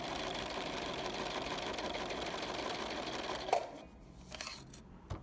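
Sewing machine stitching steadily through a plush minky fabric blanket, a close, continuous mechanical whir lasting about three and a half seconds before stopping abruptly, followed by faint handling noises.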